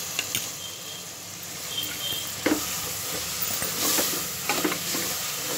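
Mint and coriander leaves frying in oil over low heat for chicken biryani, a soft, steady sizzle broken by a few sharp clinks and scrapes of stirring.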